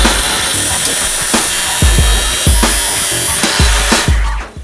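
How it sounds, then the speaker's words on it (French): Metal angle brackets for a roof rack being cut into pieces, loud and close, with a steady run of rhythmic cutting strokes repeating about every half second and no talking. "je vais découper des équerres que je laisserai intactes"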